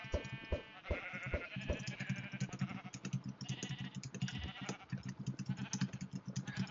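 Sheep bleat repeatedly in Minecraft, fairly close, mixed with a busy clatter of game sounds like clicks and footsteps, with no one talking.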